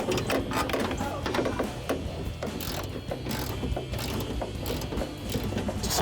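A socket wrench ratchets a bolt tight on a Daytona-style rear spoiler being fitted to a 2011-2023 Dodge Charger R/T, with rapid, close clicking that runs steadily throughout.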